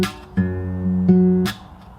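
Acoustic guitar in fingerstyle plays the verse bass pattern, a few low thumbed notes ringing close and clear with brief percussive string noise between them, no voices.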